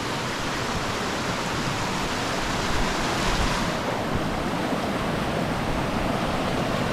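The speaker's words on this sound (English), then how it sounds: "So this is Ramey Creek" Ramey Creek flows steadily beside a large washout, a dense, broad rushing roar of water that stays loud and constant throughout with no voices.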